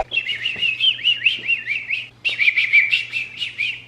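Birds chirp and sing in a steady, lively stream of high warbling whistles and trills, close and loud, with a brief pause midway before the song resumes over a faint low hum.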